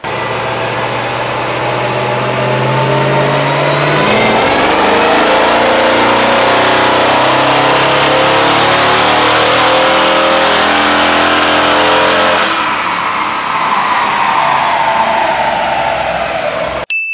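A Mercedes-AMG GT S strapped to a dyno runs up through the gears, its engine note climbing steadily in a loud, sustained roar before easing off near the end.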